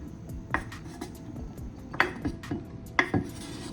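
Chopped pickles are scraped into a bowl with a utensil in a home kitchen, giving clinks of metal on the dish and soft thuds, a few sharper knocks near the end.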